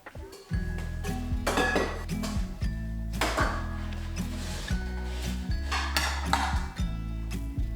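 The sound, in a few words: putting away dried dishes and cutlery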